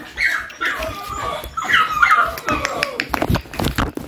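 An American Bully dog named Chopper whimpers and lets out short yips and barks in an excitable run close by, with a person talking over and between the sounds.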